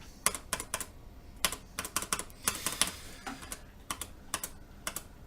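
Keys clack on a Sweet16 16-key macro pad mechanical keyboard, a close series of sharp clicks that come in quick bursts and doubles, with short pauses between groups and no talking.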